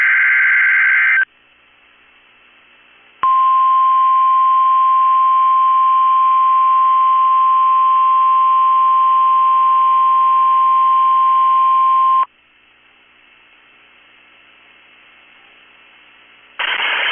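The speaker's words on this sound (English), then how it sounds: "National Weather Service in Chanhassen, Minnesota has just activated the warning alarm on 13 weather radio stations" National Weather Service weather radio warning alarm from Chanhassen, Minnesota: a loud, steady single-pitch tone held for about nine seconds over a band-limited radio hiss, bracketed by short bursts of broadcast audio.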